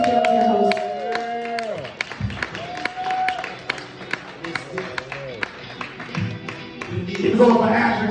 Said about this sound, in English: Keep it going for Ashley Tomajan. Give another round of applause.